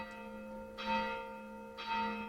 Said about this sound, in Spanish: Las campanas malditas.